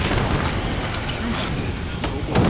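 Pistol gunfire from the video game Killing Floor 2 rings out as a few sharp shots over a dense, noisy game mix, with voices in the background.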